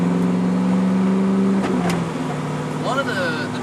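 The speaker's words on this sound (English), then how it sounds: "the Rev Match of you downshifting is actually helping you slow down because the engine is decelling" Engine of a 1999 Pontiac Trans Am with a six-speed manual blips up during a rev-matched downshift, a loud close roar that holds and then drops away. Someone talks over the engine throughout.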